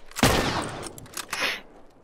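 Rifle gunfire in The Last of Us: a sharp, loud close shot followed by a decaying echo and a couple of fainter follow-up cracks over about two seconds, with no talk.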